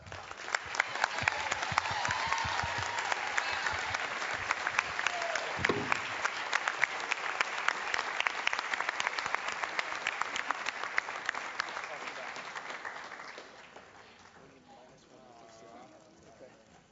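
Loud, dense audience applause at the Musical Moods 2008 awards ceremony, sustained for about thirteen seconds before thinning out and fading away.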